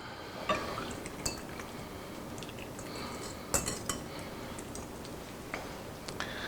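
Waffle batter is mixed in a bowl, a utensil clinking and scraping against the sides in quiet, irregular strokes, with a few sharper taps standing out over soft background noise.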